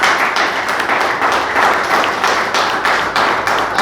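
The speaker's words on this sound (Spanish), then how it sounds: "¿Cuánto le dan un aplauso al Señor?" Congregation at a church service claps together in praise, a loud, close, dense burst with a slightly pulsing rhythm that carries steadily throughout.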